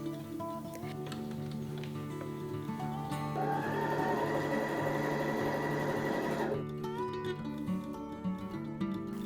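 A sewing machine stitches patchwork rows together for a quilt in a short, steady buzzing run of about three seconds, set against quieter background hum and tones before and after.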